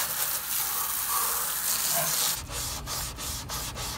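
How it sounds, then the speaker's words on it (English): A soft scrub kitchen sponge rubs steadily against the O-ring mating surface of a Hayward Pro Grid DE pool filter, a continuous close scratchy swishing that turns into quicker, choppier strokes near the end. "It's a soft scrub sponge, and I'm gonna use it to clean the mating surface for this large O-ring."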